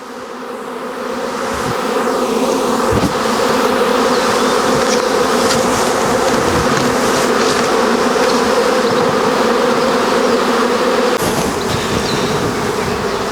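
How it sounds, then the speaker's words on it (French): A honeybee swarm buzzes loudly and continuously at close range as it is shaken off a frame into a small nucleus hive, with occasional knocks and thumps beneath the dense hum. "j'ai utilisé un cadre de façon à balancer l'essaim directement dans la ruchette"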